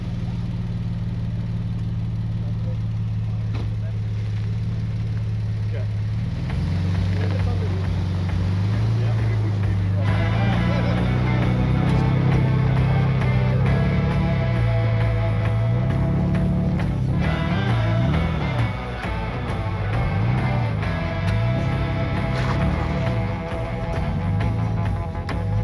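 A 4x4 vehicle on the Tierkloof trail climbs from loose sand onto solid rock, its engine idling low and then revving and labouring in rising and falling surges, loud and close, with talking over it.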